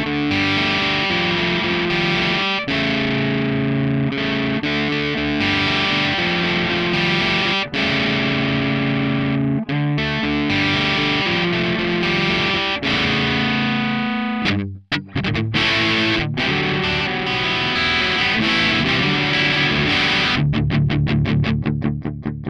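Electric guitar through the blue channel of a Mooer micro preamp, a long stretch of loud distorted chords and riffs with brief stops and quick choppy strums near the end.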